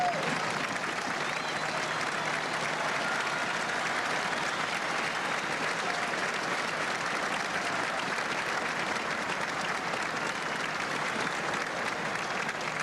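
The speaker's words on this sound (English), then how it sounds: "joining in the round of applause here at Michigan Stadium" A huge stadium crowd applauds at Michigan Stadium during a 1989 Ohio State at Michigan college football game, a dense, continuous roar of clapping and crowd noise that holds evenly at a distance throughout.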